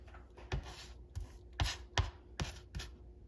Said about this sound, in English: I'm putting some onions in here.